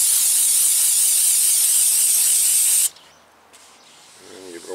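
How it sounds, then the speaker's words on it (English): Brake cleaner sprayed onto a cloth during rotor cleaning on a Toyota RAV4 front brake job: a loud, steady, close hiss lasting about three seconds, then stopping abruptly, followed by faint room noise and the start of a voice. "just spray the brake cleaner right on the cloth"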